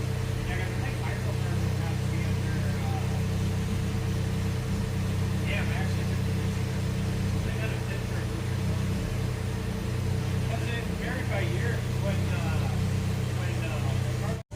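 Rough, uneven idle from a Nissan Z24E four-cylinder in a Nissan 620 pickup, a steady low engine drone holding for the whole stretch, close by and loud, with faint mechanical clatter and no throttle blips.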